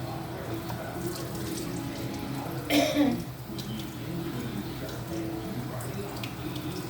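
Tap water runs steadily into a sink as produce is rinsed, with a brief louder splash near the middle and faint throat-clearing sounds over the continuous flow.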